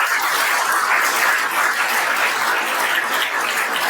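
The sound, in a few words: students' loud applause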